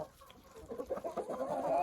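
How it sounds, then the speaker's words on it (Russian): Old hens cluck eagerly while being given yeast on frozen ground, a rising cluster of close, busy clucks and murmurs. "А вот сейчас увидите, когда я буду давать старым курочкам"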